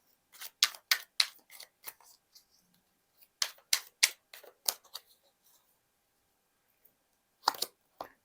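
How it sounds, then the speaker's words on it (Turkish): Tarot cards from a deck are handled and drawn, producing quick bursts of crisp snapping and riffling, close and clear in a quiet room with pauses between the flurries and a final short burst. "Tılsım Kraliçesi'ne bir kart alacağım."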